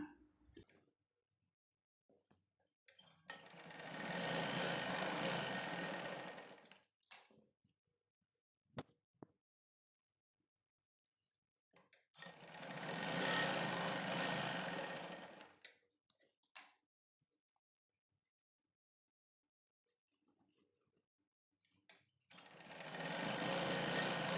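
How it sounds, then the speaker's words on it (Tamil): Domestic sewing machine stitching darts on a blouse, running in three long steady bursts of about three to four seconds each, separated by quiet pauses with small handling clicks. "இப்போ நம்ம மூணு பக்கம் டாட்டு தைச்சிட்டோம் லெஃப்ட் சைடு டாட்டு தைக்கலாம்"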